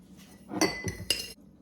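A spoon scoops ground coffee and clinks against a glass or container for iced coffee, with a few quick metallic taps over about a second, close and fairly quiet, with no talking.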